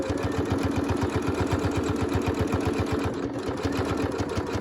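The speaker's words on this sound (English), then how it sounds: "Just sewing up the bias tape." A sewing machine runs at a steady, fast rhythm as it stitches bias tape onto a health care worker's fabric face mask, its needle clatter evenly repeating up close without a break.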